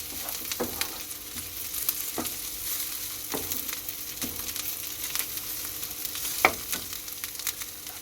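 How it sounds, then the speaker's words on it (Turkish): Sinop pickles (turşu kavurma) frying in a pan, with a steady soft sizzle and occasional scrape or clack of a utensil stirring them, no voices. "5 dakika kavurun arkadaşlar bu şekil."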